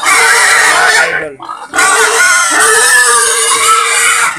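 Native pigs grunt loudly and continuously at a backyard pig pen, close to the microphone, with roosters crowing nearby and someone talking over them.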